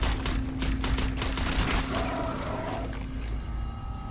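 Gunfire in the sci-fi video game Starfield, a rapid burst of sharp, repeated shots in the first couple of seconds, followed by a fainter mechanical hum and lingering game ambience.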